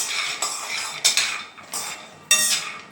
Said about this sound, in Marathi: आता एका कढईमध्ये काजू आणि बदाम व्यवस्थित असे भाजून घ्यायचे